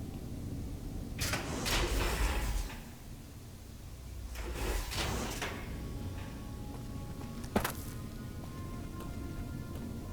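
A heavy mechanical door in Fallout: New Vegas grinds and slides open in a couple of long scraping, rumbling bursts, followed by a sharp clank, over a low ambient game hum.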